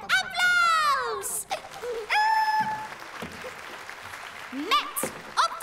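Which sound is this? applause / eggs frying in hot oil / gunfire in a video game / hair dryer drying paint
applause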